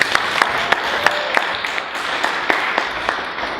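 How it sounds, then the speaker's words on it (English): An audience at a business summit at the Hilton Sandton applauds for Christy, steady scattered hand claps with a few sharp louder claps standing out from the crowd. "Round of applause for Christy"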